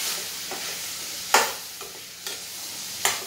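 Long bean sabzi with coriander and red chilli gets stirred in a pan, a soft background hiss broken by four separated scraping strokes of a spoon, close and fairly quiet, with no one speaking.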